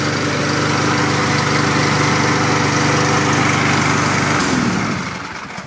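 A Kohler XT149 149cc small engine, freshly fitted with a new carburetor kit, runs loud and steady up close with a constant droning hum, then shuts down and falls quiet just before the end.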